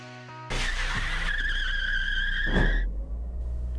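A Lada Vesta SV Universal with a 1.8 engine, manual gearbox and stock intake pulls away hard from a standstill, a short tyre chirp and rising engine note sounding close and loud before easing off.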